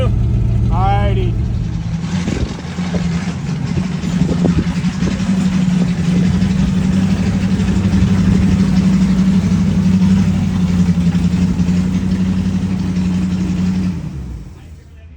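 A Ford Mustang engine runs steadily at close range with a loud, rough mid-pitched drone, holding a sustained rev before cutting out near the end.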